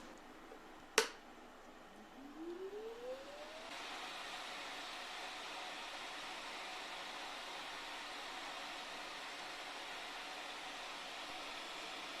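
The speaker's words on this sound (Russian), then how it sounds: "Потребляемая мощность пылесоса составляет 70 Вт" A small 70 W jeweller's vacuum cleaner, used while working gold, starts after a sharp click, whines upward as its motor spins up, then settles into a steady, fairly quiet whir.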